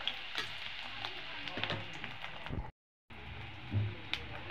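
Small native koi fish fry with chopped onion in a pan, making a quiet, steady crackling sizzle with soft stirring knocks. The sound drops out for a moment, then resumes.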